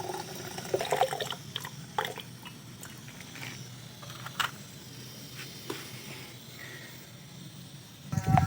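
Hot water poured and splashing over silver chloride during washing in a silver recovery process, soft continuous trickling and dripping with scattered clinks, close and fairly quiet.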